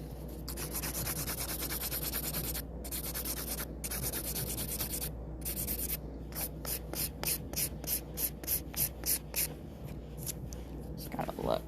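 Nail file rasping across 3D-style nails, rapid steady strokes at first, then a run of distinct short rhythmic passes, close and fairly quiet.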